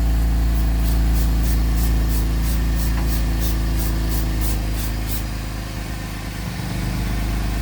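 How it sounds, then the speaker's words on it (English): Soapy water sprayed from a hand bottle onto a Chevrolet Traverse exhaust in a rapid series of sharp hissy pumps, heard close over the steady drone of the idling engine. "let's spray some soapy water"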